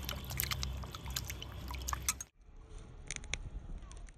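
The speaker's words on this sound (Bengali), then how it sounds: "জলের মধ্যে দিয়ে ভালো করে ধুয়ে নেব।" Sweet potatoes being washed by hand in water: splashing, trickling and dripping, then a brief pause before a quieter second round of swishing and drips. No talking.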